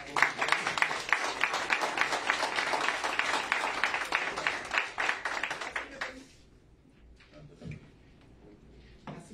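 Applause fills a town council session with regidores and press present, a dense burst of many hands clapping for about six seconds, then fading to a quiet room with scattered bumps and faint movement.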